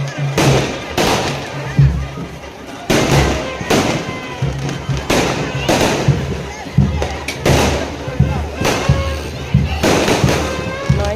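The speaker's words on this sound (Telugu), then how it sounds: "అక్కడ చూడండి క్రాకర్స్ మీకు చూపిస్తాను" Firecrackers burst repeatedly at a Gangamma village festival, loud sharp bangs and crackling volleys roughly every second or two, with crowd noise and voices in the background.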